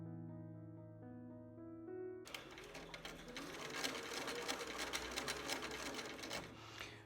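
Domestic sewing machine stitching fabric along a marked line for a reversible tissue box cover, starting after a brief steady tonal hum and then running as a continuous close rapid mechanical chatter at moderate volume.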